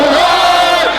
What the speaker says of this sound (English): They sang songs of victory, chanting PDP and raising the party colors in umbrellas and flags.